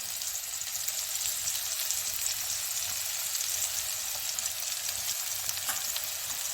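Onion frying in hot oil for a Marathi wild mushroom dish, a steady close sizzle with a dense hiss throughout and no talking.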